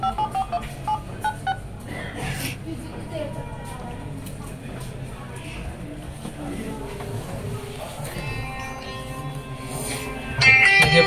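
Dialing tones from a Moto G72 phone with 6/128GB storage as a call is placed, short beeps at the start, then a steady murmur with talk, and a brighter tone burst near the end.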